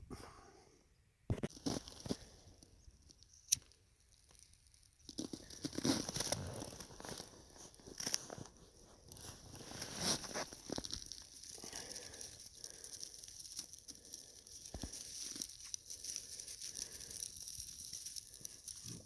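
Quiet, close crinkling and ripping of birch bark being torn, in irregular bursts with sharp cracks and pauses between.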